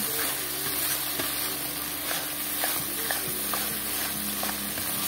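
Cashew and peanut paste sautéing in a pan for a vegetarian paneer dish, a steady broadband sizzle with soft scraping stirs and occasional spoon taps, close and continuous with no talking.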